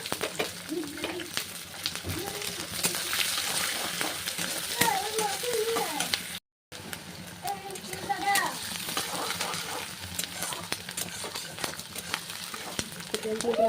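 Onions fry in hot oil with nuts, a steady sizzle with occasional stirring clatter underneath a voice talking throughout, broken by one brief cut to silence.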